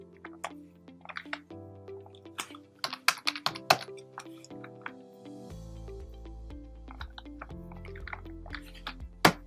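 Quiet, irregular clicks of computer keyboard keys being pressed, short taps scattered across a soft background hum.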